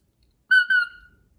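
A shepherd blows a brass sheepdog whistle: two quick, clean, high-pitched tones run together, the second sliding down and fading, alone in an otherwise quiet setting.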